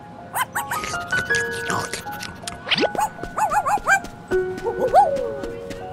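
Cartoonish puppy dog barking and yipping in Roblox Brookhaven, several short high barks and whimpers scattered among chimes and other game sounds.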